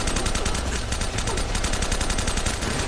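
Rapid automatic gunfire from the video game Uncharted: Drake's Fortune, a dense, continuous rattle of shots at steady loudness with no pauses, loud and close throughout.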